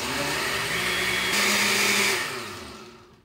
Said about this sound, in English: Okay, let's blend that up and look at it.